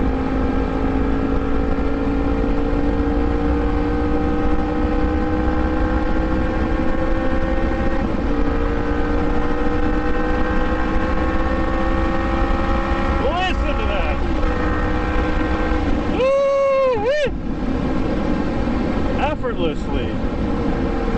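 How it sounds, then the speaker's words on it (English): Yamaha MT-10 motorcycle engine fitted with an Austin Racing exhaust, a steady rough, gruff drone with slowly climbing harmonics while cruising, up close throughout, with brief sharp rev blips near the end. "Once the engine's warmed up, she really gets back into character and gets a little more gruntier, a little more rougher."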